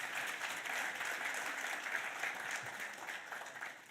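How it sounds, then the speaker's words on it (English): A crowd at a taxpayer awards ceremony in Swakopmund, Namibia applauds steadily, a dense, even patter of many hands that holds for several seconds at moderate loudness. "Let's give you another round of applause, please."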